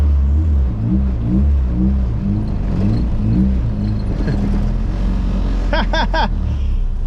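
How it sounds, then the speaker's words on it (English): A Honda Civic EF hatchback with a B20 VTEC engine, fitted with a new clutch and rebuilt transmission, drives with a loud, steady engine drone and shifting low harmonics throughout, with a brief higher whine near the end. "just driving my Civic today"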